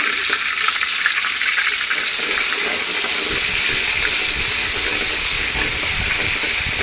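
Coriander, bay leaf and ginger-garlic paste fry in hot oil for a village-style mutton dish, a loud, steady, close sizzle and hiss that grows rougher with stirring and bubbling, with no voices.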